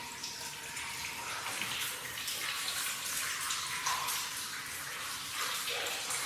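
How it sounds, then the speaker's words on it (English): Water flowing steadily off to the side through a drainage channel, a continuous broadband rush and trickle that stays fairly even throughout with no talk over it. "You see the water's shunted off to the side here and is flowing out"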